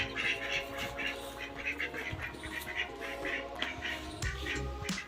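Ducks quack near a village temple, a busy run of fairly close calls that continues throughout alongside steady outdoor background noise.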